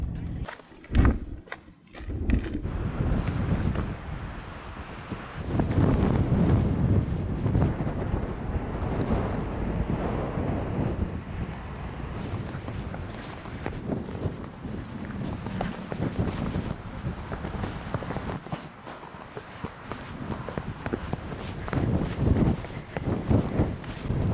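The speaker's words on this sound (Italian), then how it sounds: "qui il vento forte, anzi fortissimo, è una costante" Heavy coastal wind in Ireland roars and rumbles against the microphone continuously, gusting louder and softer throughout with no clear speech.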